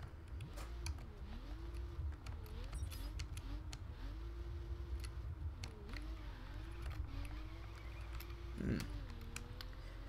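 Aston Martin V12 Zagato engine in The Crew video game, a steady low engine drone with wavering pitch as it is revved, one sharper blip near the end, with faint clicks like keyboard typing throughout.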